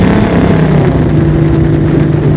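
A 1,300-horsepower custom widebody Dodge TRX pickup accelerates hard, its engine producing a loud, steady, deep roar that fills the cabin without any talk.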